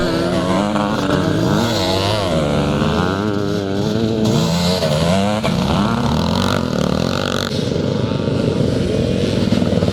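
A CCM classic motocross motorcycle races at a Scottish classic motocross meeting in Penrith, its engine loud and close with rising and falling revs, other bikes blending into the continuous roar.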